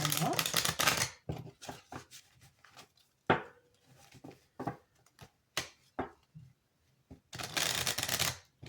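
Oracle cards shuffled in bursts of fast riffling at the start and end, with soft taps and snaps of single cards being drawn and set down in between, close and fairly quiet.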